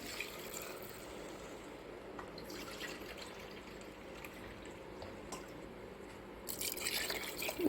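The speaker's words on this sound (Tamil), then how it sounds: "மொத்தம் நாலு டம்ளர் தண்ணி சேர்த்துக்கலாம்" Water is poured into a pan of wheat rava and moong dal, a faint close trickle and splash that swells into a louder, fuller pour near the end.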